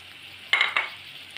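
Spices tipped into a hot frying pan for veg macaroni hiss sharply in two quick sizzling bursts, close and loud against a quiet background.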